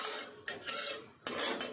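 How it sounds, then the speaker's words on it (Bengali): Four teaspoons of poppy seeds are stirred in a kadai with a metal spoon, giving scraping, rasping strokes in two bursts separated by a short pause, close and fairly quiet. "কড়াইয়ে 4 চা চামচ পোস্ত"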